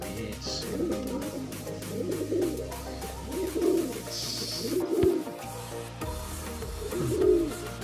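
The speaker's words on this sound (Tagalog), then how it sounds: "Yan sila kalapatids." Pigeons coo nearby in repeated soft, low, throaty phrases, several calls spaced a second or so apart over a steady background hum.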